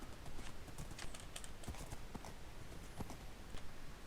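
Horse hooves clip-clopping at a steady riding pace in Minecraft, a run of quick, distinct hoofbeats close and clear against a quiet background, with no talking.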